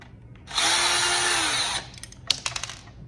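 A power drill whirs in one burst of a little over a second as it backs out a screw from a Kenmore Ultrawash Quiet Guard 3 dishwasher's water valve, followed by a few small clicks and clatters, close and loud.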